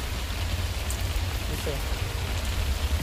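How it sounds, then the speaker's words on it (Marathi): Rain falling steadily on surfaces nearby in a parking area, a soft even patter over a low rumbling background. "जस्ट पार्किंगला आलो आणि पाऊस सुरू झाला आहे, तुम्ही बघू शकता"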